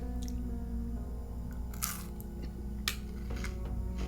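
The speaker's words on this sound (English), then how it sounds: "Let's give this little marshmallowy guy a bite." Close, crisp crunching bites into a small crunchy, marshmallowy protein snack with a Rice Krispie-like texture, a few distinct bite bursts over a steady low background hum, no talking.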